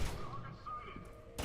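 Gunfire crackles in the F.E.A.R. 2 video game, a short burst of shots ending in a sharp report.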